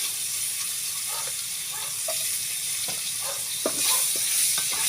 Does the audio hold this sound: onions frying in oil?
yes